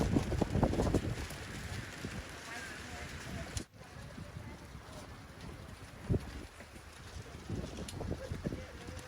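Steady wind rushing and buffeting a microphone outdoors at a Songkran temple fair, continuous and fairly loud, with occasional gusts and thumps.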